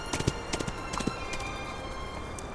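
Horse hooves clip-clopping as a rider rides off, a scattering of hoof knocks over a steady background hiss, moderately near, with no talk.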